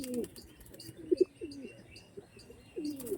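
Tournament-quality racing pigeons from a single loft coo close by in a few soft, low, throaty bursts, with faint chirps between them.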